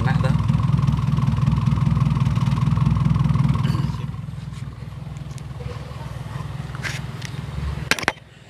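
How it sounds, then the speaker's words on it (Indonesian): Exhaust of an idling Toyota Kijang with a 5K engine, heard close to the tailpipe after carburetor service: a loud, steady low rumble with even pulsing that drops somewhat in level partway through, then a few clicks and knocks near the end. "ini knalpot tak dekatkan sama kamera, jadi nanti bisa mendeteksi dari suara knalpotnya, suaranya stabil."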